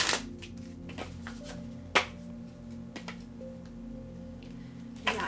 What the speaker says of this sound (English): we'll just clear this deck and shuffle it all up